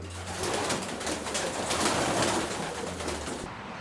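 Racing pigeons coo softly in a loft where the birds drink through crate bars, a steady murmur of low calls that runs on without pause and carries no speech.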